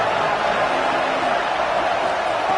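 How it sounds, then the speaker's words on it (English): American football stadium crowd roaring in a steady, dense wash of noise that fills the whole stretch without a break, loud and constant, with a commentator's voice faintly mixed in. "This crowd bringing the energy and noise early."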